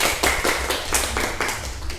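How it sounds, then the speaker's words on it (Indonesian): Hands clapping in a classroom, a brief, fairly even burst of sharp claps from a small group, moderately loud and close, with no talking over it. "beri tepuk tangan pada Mbak Syafa."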